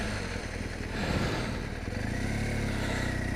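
Motorcycle engine idling and rumbling steadily at close range during slow, tight low-speed turning on a street in Denbigh, with a brief louder burst at the very end.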